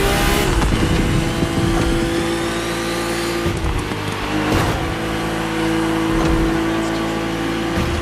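A BMW race car roars in The Crew Motorfest racing game, its engine loud and sustained with shifting revs and brief dips as it changes gear.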